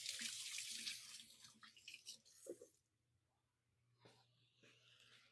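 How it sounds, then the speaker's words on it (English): A tap runs loudly into a sink for a few seconds while hands are rinsed under it, then it shuts off to a quiet room before a short splash and some rustling follow. "I'm going to give my hands a quick rinse."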